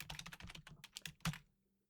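Computer keyboard keys pressed in a quick run of light, crisp clicks, close and alone, ending with one louder keystroke before falling quiet.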